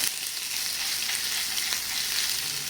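Crushed ginger and garlic fry in a hot pan with a loud, steady, close sizzle that holds unbroken the whole time, with no talking.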